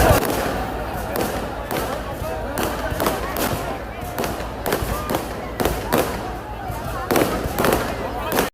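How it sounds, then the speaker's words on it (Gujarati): Firecrackers bursting during a Ram Navami celebration, a rapid irregular string of sharp cracks and thumps close by, with people talking underneath. "તો જો તો ફટાકડા ફૂટે છે."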